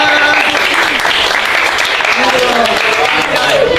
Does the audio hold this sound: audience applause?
yes